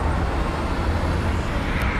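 Steady traffic rumbles past a city bus stop in Panama, a continuous loud low roar of passing vehicles and engines with no pauses.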